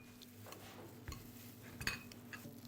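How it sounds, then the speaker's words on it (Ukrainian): Spoon stirring a chunky beetroot spread filling in a bowl, quiet scattered clinks and scrapes of cutlery against the dish in a home kitchen, sounding alone without talk. "Беремо, перемішуємо"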